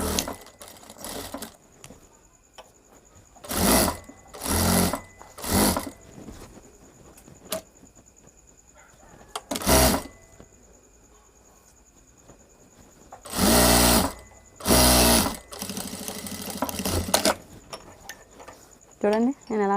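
Sewing machine stitching a princess-cut open-back blouse, running in several short bursts of a few seconds each with quiet pauses between, close and loud; someone speaks between the bursts.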